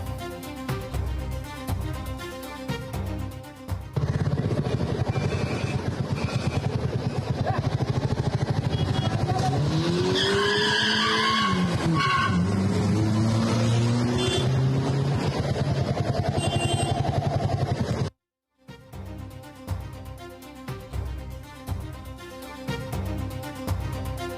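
A modified car with expired registration speeds away from a motor vehicle inspection in Paravanna, Malappuram. Its engine roars loud and continuous for a long stretch, rising and falling in pitch as it revs, then cuts out briefly before more traffic noise.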